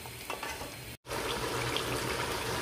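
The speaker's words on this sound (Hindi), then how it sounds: "ये मटन यहाँ पे बहुत अच्छा सा भून चुका है" Mutton browns in spices in a pot for nihari, a steady close sizzling hiss with a brief dropout before the frying resumes evenly.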